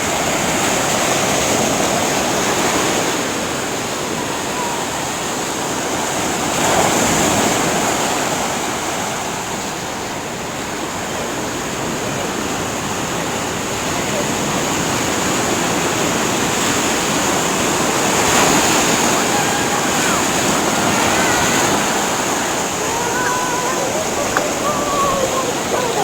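Pacific Ocean surf rolls in at Santa Monica pier, a loud continuous wash of waves that swells and ebbs for the whole stretch, with no pauses.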